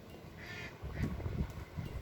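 A couple of faint duck quacks sound early on, followed by low, gusty rumbling of wind and thunder in the background during a rainstorm.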